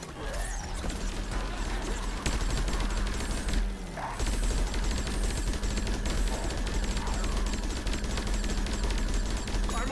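Rapid automatic turret fire from a bolt blaster set up by an engineer in Plants vs. Zombies Garden Warfare 2, steady loud bursts under dense game effects and mechanical clatter throughout.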